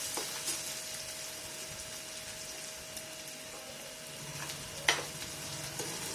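Chopped onion and finely cut raw mango fry in oil for a tempered dal, giving a soft, steady sizzling hiss throughout with one brief utensil clink near the end and no talk.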